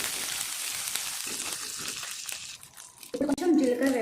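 Dry red and green chillies fry in hot oil for a tempering with a steady bright sizzle. Near the end a louder crackling burst rises, and someone talks over the cooking.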